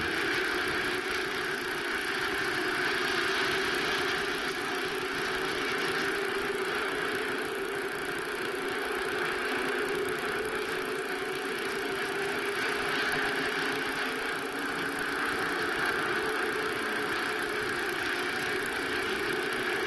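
World of Outlaws sprint cars from 1987 race around a dirt oval, their engines making a continuous blaring roar that holds steady with slight swells, loud and unbroken for the whole stretch, without voices.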